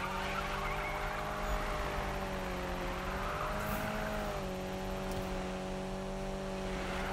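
A Nissan Silvia in the video game Need for Speed 2015 drifts, its engine holding a steady droning whine with rising and falling pitch, plus faint tire squeal, continuous and moderately loud.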